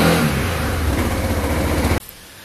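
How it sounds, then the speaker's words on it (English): A Kymco Downtown 300i scooter engine runs steadily to warm up, a dense mid-range motor drone that holds for about two seconds before cutting off abruptly into near silence. "bring the engine up to a bit of a warm temperature by running it for a couple of minutes"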